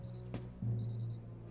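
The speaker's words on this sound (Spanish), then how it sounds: "en cualquier momento sonará mi despertador." An alarm clock rings in repeated short electronic beeping bursts, a pair at the start and a longer run of quick beeps later, over a low steady hum with a thump in between.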